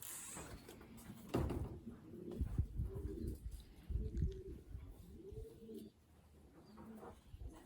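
Racing pigeons cooing close by in a loft, several soft, rounded coos repeating in a loose rhythm with a few knocks and rustles between them and no talk.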